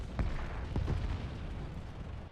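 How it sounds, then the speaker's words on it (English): In War Thunder, a T-34-85 tank fires a single distant cannon shot, heard as a muffled low boom over a steady rumbling background, followed by a faint second thump. "I heard a gunshot, T-34-85"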